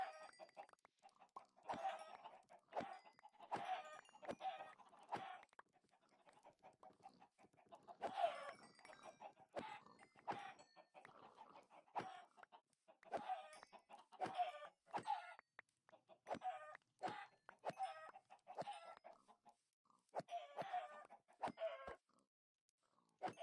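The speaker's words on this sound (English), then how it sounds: "I had too many chickens." Chickens in a farming video game cluck in steady bursts, a flock of birds clucking close and clear again and again over about twenty seconds with short pauses between runs, and no talking.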